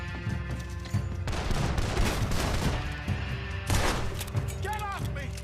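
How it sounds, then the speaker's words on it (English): Gunfire crackles through a shootout in the Red Dead Redemption 2 video game, bursts of shots layered over dense, noisy action with shouting voices mixed in throughout. "Do something, Arthur! Shoot this bastard"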